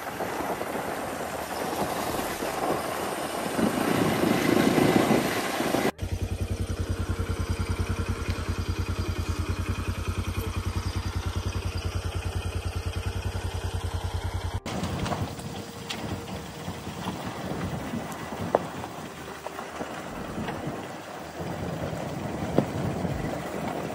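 Tractor engine chugging steadily while riding toward Barahatal in Surkhet, a loud rhythmic low rumble with rattling and road noise that shifts between segments, no clear talk.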